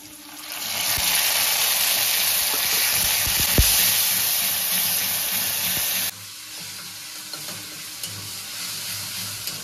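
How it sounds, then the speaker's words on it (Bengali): Ginger, garlic and onion paste sizzles loudly in a frying pan for an egg korma, a steady close hiss with occasional stirring clatter, dropping slightly in intensity partway through. "এবার আদা রসুন পেঁয়াজ যে বাটা ছিল ওটা দিয়ে দিচ্ছি"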